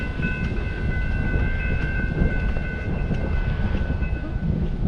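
River Line train drawing into Roebling station in New Jersey, a steady heavy rumble of rail wheels and car noise with a faint high ringing tone from the crossing, continuous and fairly close, no voices.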